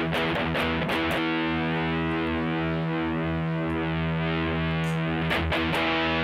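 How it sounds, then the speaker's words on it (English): Distorted electric guitar through a pentode power amp emulation programmed on a Sigma DSP ADAU1452 chip: a few picked notes, then a sustained, smooth, saturated chord ringing loud and alone before more strummed attacks. "this is the typical sound of a pentode. Smoother distortion."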